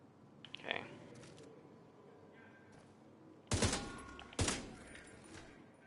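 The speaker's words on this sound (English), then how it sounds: "you had to shoot all them bullets just to build it up" Gunfire in the shooter game The Division 2: two sharp, loud bursts of shots a second apart over a steady low background, with a fainter crack earlier.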